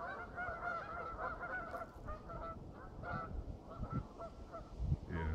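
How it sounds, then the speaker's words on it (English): Several geese honk repeatedly in a noisy, overlapping chorus, fairly close, with nasal calls rising and falling throughout. "some silly geese"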